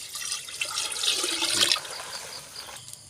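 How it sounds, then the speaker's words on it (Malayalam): Jaggery dissolved in water is poured into a large container of water for a fertiliser mix, making a splashing, gurgling pour that swells midway and then tapers off. "കലക്കി വെള്ളം ഇതിനകത്ത് ഒഴിക്കുകയാണ്."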